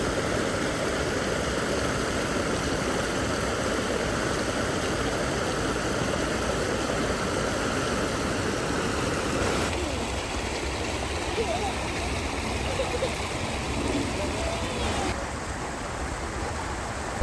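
An artificial waterfall at Katara Cultural Village in Qatar, where two streams pour into a small recirculating pond, makes a continuous broadband rush that dips in level about halfway through and stays steady throughout.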